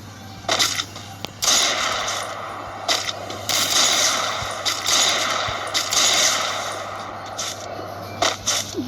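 Sniper rifle gunfire in a fast-paced shooter video game, sharp repeated shots spread irregularly through a dense, busy mix of game sounds.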